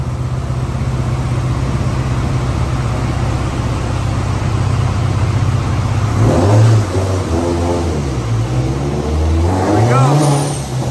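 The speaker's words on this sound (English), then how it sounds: "We got a 900 horsepower Subaru is what we got." A 900 horsepower Subaru WRX STI engine drones at a steady rumbling idle, then rises twice in throaty revs, loud and close, with people talking nearby.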